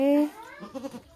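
A goat that has just given birth gives one loud, strained bleat, followed by a person talking nearby.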